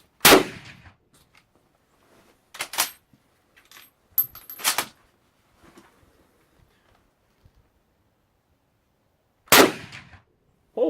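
Type 99 Arisaka rifle shots ring out as sharp, loud isolated cracks, about four spread across the stretch with quiet gaps between, two fired close together midway.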